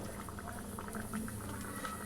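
Battered pieces for KFC-style chicken wings fry in medium-hot oil, giving a soft, continuous bubbling and crackle that stays faint and even throughout.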